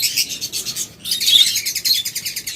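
Birds chirp rapidly and continuously in close, high-pitched trills, pausing once briefly before resuming.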